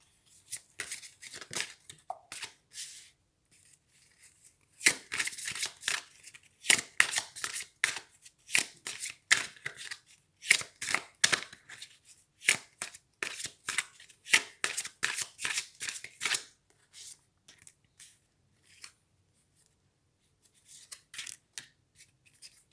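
Tarot cards being shuffled by hand during a reading, crisp riffling bursts in repeated runs with short pauses, close and fairly quiet, without talk.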